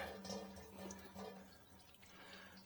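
Motor oil draining from a Corvette C5 during an oil and filter change, a steady liquid trickle with faint dripping, continuous and fairly quiet throughout.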